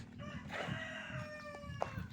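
Chickens on a rural farm, with a rooster crowing in long drawn-out calls over steady clucking from the flock, fairly close and continuous throughout.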